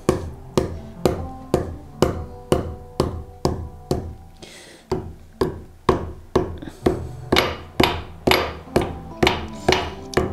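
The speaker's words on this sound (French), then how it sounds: "l'endossure se fait avec un marteau et on va venir taper" During bookbinding, a hammer taps a book spine to back it, shaping the spine against the sewn sections. About twenty sharp, even knocks repeat at a brisk, regular pace close up, with one short pause midway.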